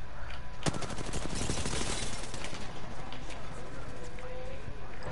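Rapid automatic gunfire in a video game, a continuous rattling burst running through the whole stretch beneath steady background noise, while players talk over it.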